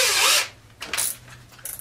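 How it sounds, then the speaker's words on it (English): A power drill bores a relief hole in wood while building a handstand trainer, giving one loud whirring burst at the start, then quieter scattered grinding and rubbing noises from the bit and workpiece. "Drill the hole. This is called a relief hole. Because it relieves the stress around the wood."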